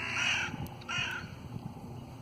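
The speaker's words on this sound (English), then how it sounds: "hello crows." Two harsh crow caws in quick succession, fairly close, followed by quiet outdoor background.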